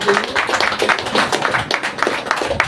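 Seminar audience clapping loudly to welcome Dr. Ajay Singh, a dense, uneven patter of many hands close by, with voices mixed in.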